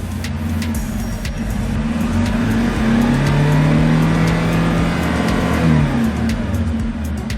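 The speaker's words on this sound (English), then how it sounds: "Let's try to accelerate." Hyundai Porter Super Cargo truck engine revving steadily under acceleration, a loud, close, continuous drone whose pitch rises and falls smoothly over several seconds with no talk.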